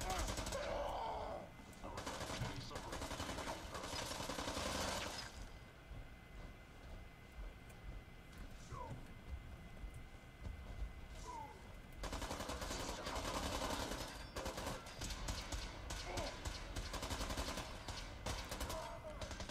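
Loud gunfire and combat noise from synths battling super mutants in the Fallout 4 video game, with dense bursts in the first few seconds, a quieter stretch, then heavy continuous firing returning near the end.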